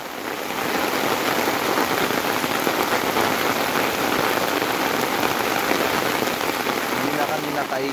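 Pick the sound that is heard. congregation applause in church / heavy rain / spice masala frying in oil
heavy rain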